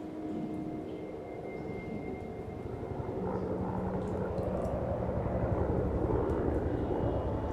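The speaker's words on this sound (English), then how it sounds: "Sounds like a Huey." A low, rumbling Huey helicopter drones in the distance, growing slightly louder toward the end, with no voices.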